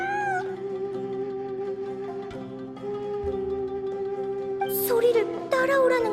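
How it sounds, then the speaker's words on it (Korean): A cat in the Genshin Impact video game meows several times in drawn-out, wavering cries over a sustained musical tone, fairly close and clear, with the calls growing sharper and more insistent near the end. "진짜 고양이야"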